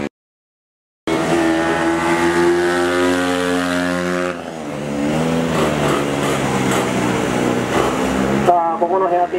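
Race car in a two-hour endurance race accelerating hard out of a corner, a loud, close engine note climbing steadily in pitch, then dropping and rising again through a gear change, with a commentator talking over it.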